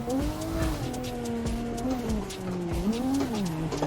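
Race car drifting in Assetto Corsa, driven without clutch or e-brake: a close engine tone rises and falls through repeated downshifts and revs, with tire squeal and skidding running underneath, loud and continuous.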